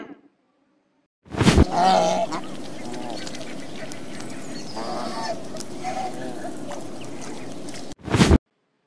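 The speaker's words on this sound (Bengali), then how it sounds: "এটা হলো রাজহাঁস, ইংরেজিতে বলে সোয়ান।" A swan calls with loud, harsh honking bursts that run almost continuously for several seconds, followed by a short final honk after a brief gap.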